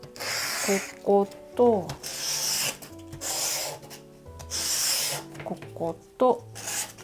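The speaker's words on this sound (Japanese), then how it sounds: "接着する面にヤスリかけをしていきます。" Sandpaper or a file rasped across the gluing surface of a 100-yen shop frame used to build a dollhouse room, several short bursts of scratchy rubbing close up, with a voice speaking between the strokes.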